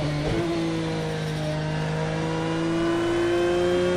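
A Porsche 911 GT3 R engine in Project Cars 2 hums at a steady, sustained rev. It holds a clear tonal whine, loud and continuous with no voices.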